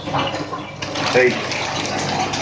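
Water from a koi quarantine container holding imported koi is poured away in a steady splashing rush that starts about a second in, with a voice speaking faintly in the background.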